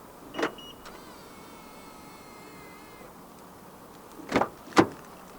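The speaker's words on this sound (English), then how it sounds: "To lock the car, press the ribbed area on any of the front door handles." Door locks on a 2023 Honda Accord actuate when the handle is touched, giving a short mechanical clunk followed later by two quick sharp locking thunks, close and clear against a quiet background.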